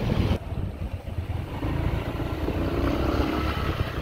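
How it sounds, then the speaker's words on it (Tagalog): Motorcycles move through busy road traffic, giving a low, fluctuating engine drone with brief rises and dips close by, blended with general street noise. "Aga-aga traffic dito. Dami na agad motor dapat."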